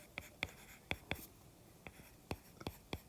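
Marker or chalk strokes on a board while working through a rational equations math problem, several short scratchy taps and squeaks spaced irregularly, close and fairly quiet, with no voice.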